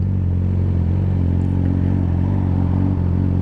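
A Yamaha R6 motorcycle engine drones loud and steady while riding, a constant low rumble with wind noise and no pauses.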